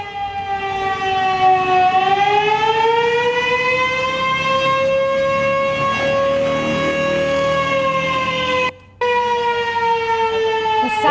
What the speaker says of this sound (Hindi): जहां पर लगातार सायरन की आवाज आप सुनिए।